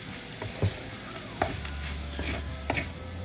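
Vegan fried rice being stirred and mixed in a pan, with soft scraping knocks of a utensil every second or so over a low steady background sizzle, no voices.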